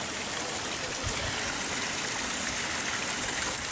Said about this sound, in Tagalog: Tapos sapa dito parang falls.